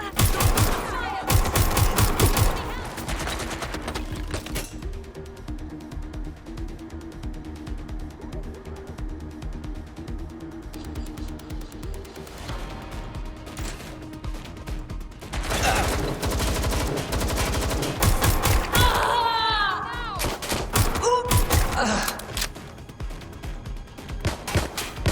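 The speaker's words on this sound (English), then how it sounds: "Shots fired!" Rapid gunfire fills a Watch Dogs Legion firefight: dense bursts of automatic shots crackle at the start, ease into a steadier background rattle, then surge again in loud, overlapping volleys.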